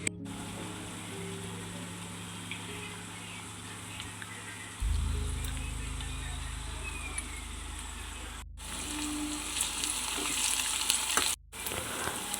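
Onions, garlic and curry leaves frying in a pan over a medium flame, a steady close sizzle that swells louder partway through, with occasional stirring.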